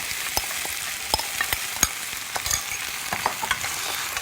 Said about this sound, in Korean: 소스를 먼저 넣고 볶을 거예요.